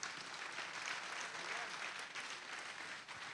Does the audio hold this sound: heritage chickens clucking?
no